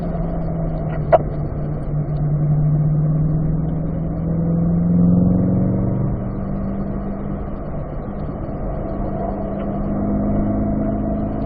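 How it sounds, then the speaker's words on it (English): A car on a race track braking and downshifting to fourth gear, its engine note droning steadily from inside the cabin, with a brief rise and fall in pitch midway. "it's firm on the brake initially, back down to 4th, and you're going to trail the brake into the turn"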